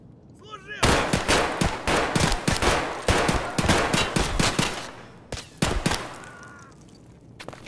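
Gunfire in Escape from Tarkov cracks out in rapid loud bursts of automatic shots with brief pauses between volleys, close and dominant, with a voice heard faintly at the edges.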